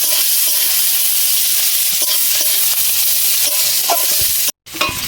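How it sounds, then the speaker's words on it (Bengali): Chopped onions frying in a pan with cumin seeds, a steady close sizzle with scraping stir strokes throughout, broken by a brief silent gap near the end. "ভালো করে নেড়ে চেড়ে ভেজে নেব"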